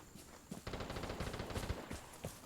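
Light machine gun fire from the video game Vigor: a fast, continuous burst of rapid shots running for about two seconds after a brief pause, with a few scattered sharper reports, loud and close, with no talking.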